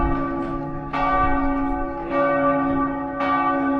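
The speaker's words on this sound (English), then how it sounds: "This church bell still rings strong here" A church bell in the streets of Zadar, Croatia, rings loud and close with repeated strong strikes about a second apart, each leaving a long humming resonance that echoes between buildings.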